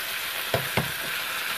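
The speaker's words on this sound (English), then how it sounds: "So I'm going to add my Rotel tomatoes," Drained Rotel tomatoes tumble into a hot pan for chicken tacos, giving a soft steady sizzle with two brief clattering stirs partway through and a faint clink at the end.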